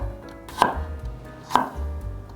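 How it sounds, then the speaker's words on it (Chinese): A knife slices a peeled carrot into half-moon pieces on a board, two crisp, close chops about a second apart. "把红萝卜切成半圆形的片状"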